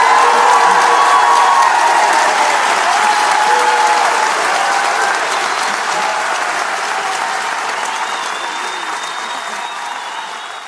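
A large audience gives sustained applause for the families affected by the 2023 Nottingham killings, dense loud clapping that holds steady and slowly fades over its length, with no speech over it.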